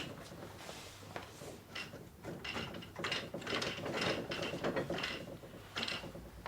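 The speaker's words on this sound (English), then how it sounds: "Hear the clacking noise? That's engaging it. It's like a brake." A ratchet brake clacks as it engages while a long-arm quilting machine frame is wound up, giving a series of close mechanical clicks and rattles with no talk.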